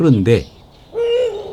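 A male Eurasian eagle-owl gives a low, drawn-out hoot, heard after a brief spoken word from a narrator.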